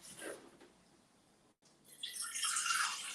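Water pours into a blender holding roughly chopped ingredients, starting after a quiet moment as a brief, bright, hissing splash that grows louder and carries on to the end.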